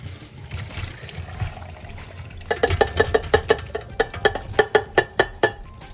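Water draining off boiled potatoes into a sink, a low steady trickle at first, then a run of sharp metallic clanks and knocks from the pot as it tips and drains, fairly close.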